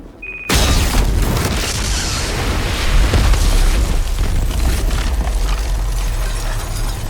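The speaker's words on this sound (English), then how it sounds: "I can take explosions to the face all the time." A heavy video game explosion bursts in, then a dense roaring rumble holds steady and loud for several seconds, with no voices.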